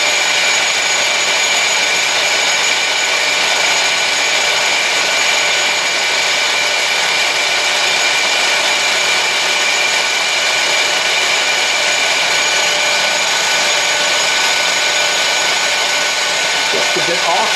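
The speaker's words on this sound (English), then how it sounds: "fold the end of the sandpaper up and get right into the corner by the" Sandpaper pressed against a wooden pen blank spinning on a lathe, worked into the corner by the metal bushing, gives a loud, steady, close-up whirring hiss that runs unbroken throughout.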